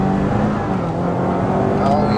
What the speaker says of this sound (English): Gavin is actually driving my car round the test track.